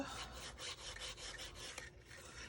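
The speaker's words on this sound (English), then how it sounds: "And again, give it a nice rub." Paper being rubbed flat onto a card box for a floral slider thank-you box, a close, steady rasping scrape with brief strokes repeating over a couple of seconds, no talking.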